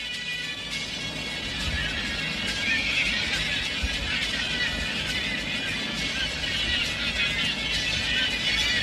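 Horses neighing and whinnying in a dramatic tribal camp scene, several loud shrill whinnies over a busy background with faint hoof clip-clops and no speech.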